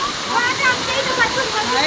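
A waterfall roars steadily nearby, a dense continuous rush of falling water with faint whistly tones on top, loud and unbroken throughout.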